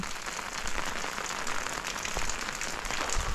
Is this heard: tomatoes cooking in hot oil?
no